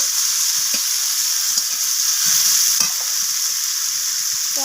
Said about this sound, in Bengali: পেঁয়াজগুলোকে আমি ভেজে নেব একটা ব্রাউন রং ধরা পর্যন্ত।